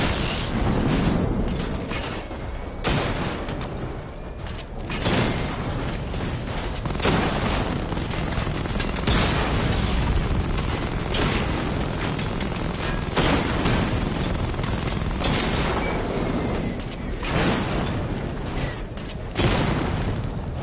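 Missile barrage explosions in a video game, a relentless stream of booms, bursts and rattling blasts stacked one after another, loud and dense for about twenty seconds with no let-up.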